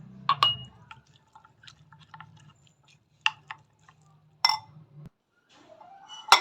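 Water is poured into a cornflour spice masala for air-fryer chicken and stirred by hand, giving quiet scattered drips, splashes and wet clinks against the bowl, with a faint low hum underneath.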